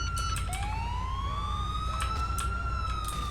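A police siren wails in Grand Theft Auto IV, a steady rising and falling electronic tone with faint harmonics, loud and continuous against a low background rumble, with no talk.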